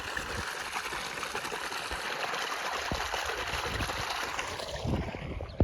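Water flows steadily from an opened dam gate, a constant broad rushing wash that stays even and fairly faint throughout, with no voices.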